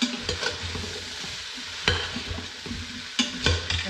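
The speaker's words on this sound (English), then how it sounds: "And let them saute for just a couple of minutes as well." Vegetables stirred and sautéing in an Instant Pot, with a continuous close sizzle broken by clattering spoon scrapes and knocks against the pot at irregular moments.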